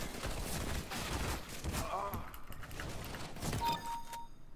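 Rapid gunfire in a CS:GO match, a dense continuous burst of shots mixed with game noise and brief spoken remarks.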